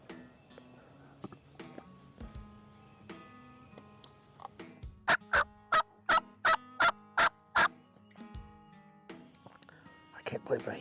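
A wild turkey hen yelps in a series of about eight loud, evenly spaced calls in spring woods during turkey season, with quiet talking and rustling before and after.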